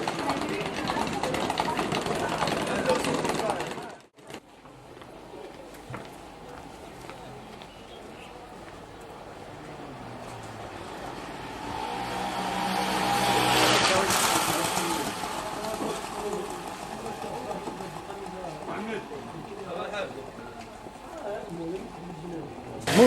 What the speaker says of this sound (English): Motorcycles everywhere here.